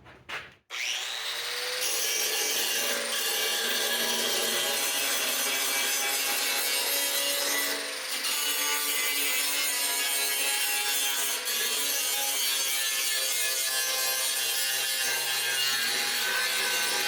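A power tool cleans up a weld area on the outer wheelhouse of a 1965 Ford Thunderbird convertible. It gives a loud, steady abrasive whine that starts after a brief knock and runs unbroken for about sixteen seconds, close by, with no talking.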